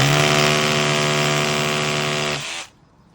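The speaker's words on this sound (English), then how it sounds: "Use a rotary drill, it's the best." A rotary drill bores into a concrete wall for a molly anchor, a loud steady high-pitched whine with a grinding edge that runs for over two seconds, then spins down and stops abruptly.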